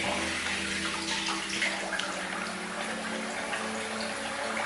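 Running water splashes steadily while shaving soap is rinsed off after a shave, a close, continuous wash with no break and no talking.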